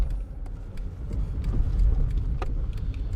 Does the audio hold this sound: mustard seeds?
no